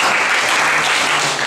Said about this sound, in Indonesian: Tepuk tangan nih buat aku.